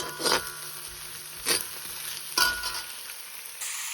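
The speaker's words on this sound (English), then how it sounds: "I have heated up the oil and added in the onion and garlic to fry up a little before I add in the pumpkin." Onion and garlic fry in hot oil in a karahi, giving a steady close sizzle broken by three sharp scraping stirs spaced about a second apart.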